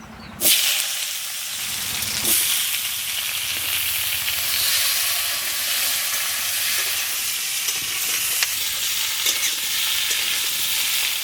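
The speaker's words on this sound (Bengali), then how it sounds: "গরম তেলের মধ্যে গোটা জিরে আর তেজপাতা দিয়ে দিলাম কেটে রাখা কলা আলু আর কাঁচা লঙ্কাও দিয়ে দেবো" Cut plantain, potato and green chilli hit hot oil with whole cumin and bay leaf, bursting into a loud, steady sizzle that hisses continuously, with a few knocks of stirring.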